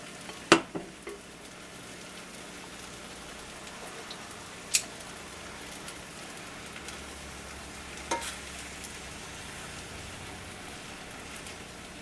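Vegetables cook in a pan for lo mein, a soft, steady rain-like sizzle running the whole time, with a few isolated clicks and taps from utensils, fairly quiet and close.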